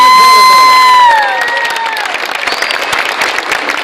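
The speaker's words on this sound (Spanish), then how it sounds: "no vamos a dejarles ir sin el aplauso de todos" A crowd at a Paraguayan celebration claps and cheers for a departing dance group. Loud, dense applause with shouts and whoops rises as a sustained musical tone fades out at the start.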